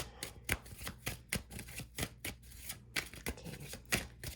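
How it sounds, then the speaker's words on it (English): Tarot cards being shuffled close by, a quick run of crisp riffling slaps in an irregular rhythm with no voice. "they want me to shuffle the gold tarot"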